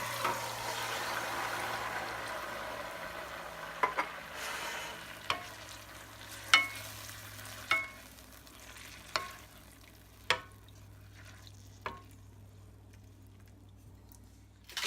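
Garlic sautéing in a pan for a chicken parmigiana sauce, a soft sizzle fading gradually while sharp spatula taps and scrapes strike at irregular intervals, close and otherwise quiet.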